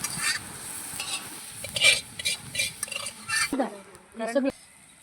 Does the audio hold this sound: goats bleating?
no